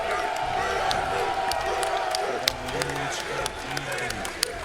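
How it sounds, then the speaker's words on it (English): A tournament crowd at a Granblue Fantasy Versus Rising fighting-game event roars and cheers steadily, with scattered claps and whoops, while a commentator talks over the noise. "And the crowd goes insane."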